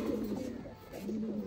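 Pigeon cooing in a loft where birds are kept and shown, two low, soft, throaty coos close by, the first longer and the second shorter, steady moderate level with no talking.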